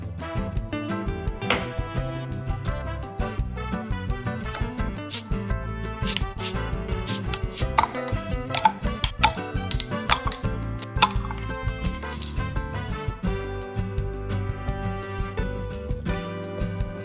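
Glasses clink and chime against one another while Jarritos soda flavors are poured and mixed together, a busy run of clinks and taps that continues steadily throughout with no talking.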